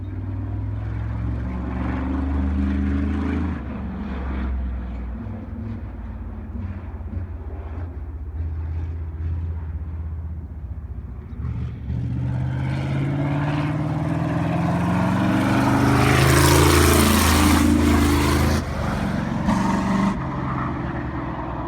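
A rented race car accelerates on a track, its engine note climbing and falling as it passes, with a loud surge toward the end.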